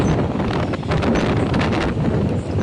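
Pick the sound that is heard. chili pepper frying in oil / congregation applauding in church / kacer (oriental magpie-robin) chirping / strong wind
strong wind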